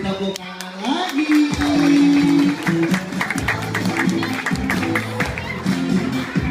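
An audience at a children's competition event claps in a sustained round of applause, with crowd noise and a voice over a loudspeaker mixed in.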